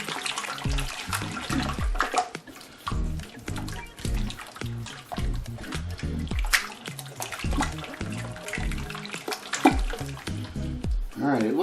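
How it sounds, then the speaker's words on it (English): A whisk stirs liquid gumbo soup in a pot in quick, rhythmic, wet sloshing strokes close by, with brief pauses between bursts. "we're going to whisk this together"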